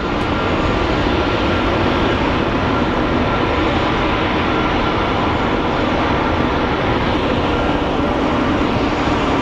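A Delta airliner at Phoenix Sky Harbor airport gives off a loud, continuous broadband engine roar that stays steady and close throughout, with no voices over it.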